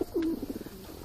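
A pigeon coos once, close by: a low, smooth call that slides and then pulses softly for about a second, with no other sound around it.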